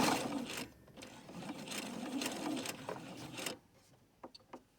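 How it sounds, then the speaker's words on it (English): A sewing machine runs along a shopping bag seam in steady bursts with brief pauses for backstitching, fairly quiet and close, before stopping and leaving a few light clicks of fabric handling. "You go and sew all the way to the end and backstitch."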